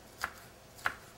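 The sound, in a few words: knife slicing chili peppers on a cutting board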